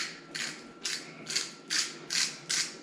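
Pepper grinder twisted by hand over air-fried corn on the cob, giving six evenly spaced ratcheting crunches, each a short gritty burst, close and fairly quiet with no talk.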